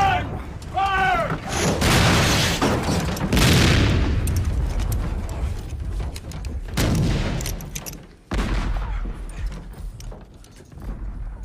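Ship's cannons fire during a period naval scene: booming blasts break out amid shouted commands and busy crew noise, with a heavy sustained roar and a further sharp burst near the end.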